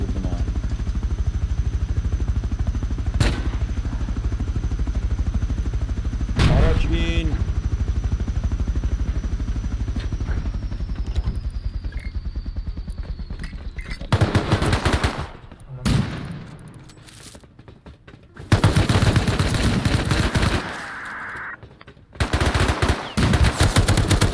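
Sustained automatic gunfire from the video game Rust rattles loud and near, with long bursts in the first half and choppier, sharper volleys later, as a helicopter-like drone hums underneath.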